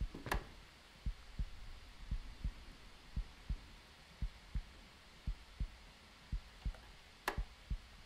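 Slow, steady heartbeat from the Minds Eyes video game, about a dozen soft low thumps in even rhythm over a faint hum, with no talking.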